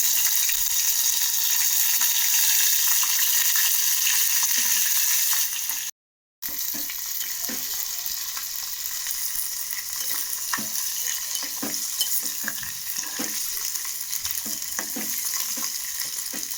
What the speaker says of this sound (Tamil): சுத்தம் பண்ணி வச்சுருக்க நெத்திலி கருவாடை இப்போ எண்ணெயில் தனியாக பொறிச்சு எடுத்துக்கலாம்